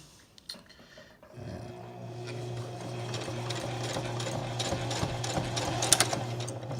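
Sewing machine stitching fabric for a cellphone cozy: after a couple of soft clicks, the motor starts near 1.3 seconds and runs steadily, with a rapid, even needle clatter that builds slightly and is heard alone without talk.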